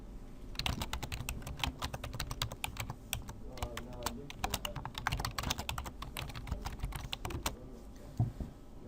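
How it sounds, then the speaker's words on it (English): Rapid keystrokes clatter on a computer keyboard as a message is typed, a steady close run of clicks with brief pauses, while someone talks over it. "I type in my message"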